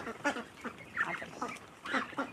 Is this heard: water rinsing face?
no